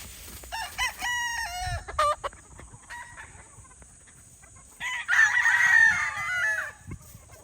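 Gamefowl chickens at close range, several roosters crowing in bursts with clucks between, a long loud crow near the end over quiet background.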